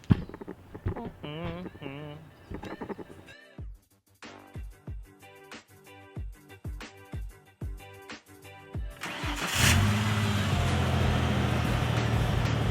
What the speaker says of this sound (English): Truck's running.